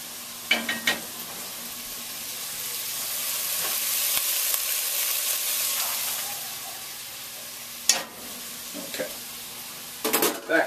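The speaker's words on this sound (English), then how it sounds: "You got the tomato paste and this all sauteing." Tomato paste sautéing in a soup pot for roasted red pepper tomato basil soup, a steady broad sizzle with occasional stirring scrapes and utensil knocks against the pot, close and moderately loud.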